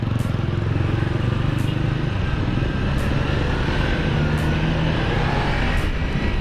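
A Kawasaki Ninja 250 FI special edition motorcycle creeps through traffic, its engine drone steady and close alongside the broadband rumble of surrounding vehicles, with no one talking.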